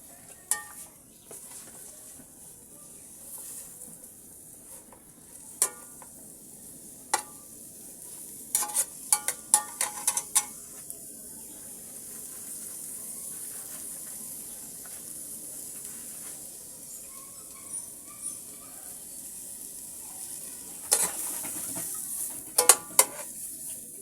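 Chopped onions fry in ghee or butter in a pot for a rice pilaf, a steady low sizzle with occasional stirring scrapes and clinks of a utensil against the pan.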